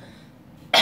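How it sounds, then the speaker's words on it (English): A single short cough bursts out abruptly at the very end, after a near-silent pause. "all the time, cover your cough."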